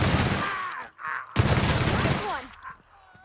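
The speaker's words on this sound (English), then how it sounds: "Light machine gun." Sustained light machine gun fire in the video game The Outer Worlds, two long dense bursts broken by a short gap, loud and close, with in-game sounds mixed through.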